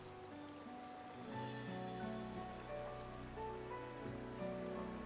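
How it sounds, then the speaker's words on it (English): Rain falls in the video game Final Fantasy XIV on a tropical beach, a steady patter over a layer of sustained soft music tones with no talking. "Let's just wander out into the rain."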